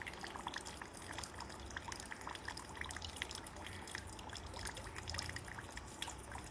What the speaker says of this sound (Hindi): नाक के एक छेद से पानी अंदर आ रहा है और दूसरे छेद से बाहर